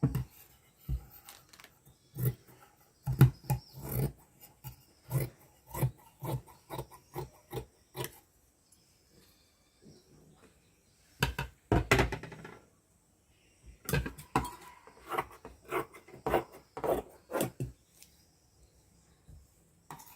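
Scissors snip through blouse lining cloth in quick bursts of crisp, close cuts separated by short pauses, with no talking.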